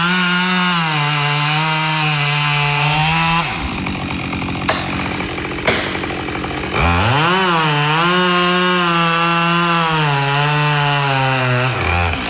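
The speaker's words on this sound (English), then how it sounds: "when he's operating a chainsaw in Australia" A Husqvarna chainsaw in wet Australian conditions runs at a high steady whine, drops into a bogging, rough cut through wood for a few seconds, then revs back up loud and close.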